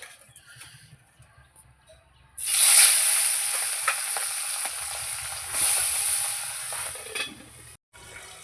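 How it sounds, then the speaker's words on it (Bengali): Tengra fish dropped into hot oil: near silence, then a sudden loud hissing sputter bursts up and keeps crackling steadily, fading slightly just before the end. "এবার আমি মাছ দিয়ে দেব ট্যাংরা মাছ কিন্তু ফুটবে"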